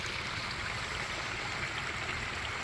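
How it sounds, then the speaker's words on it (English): Garden koi pond waterfall running steadily, a dense, even rush of splashing water heard close up with no voices. "But the waterfall's running pretty good."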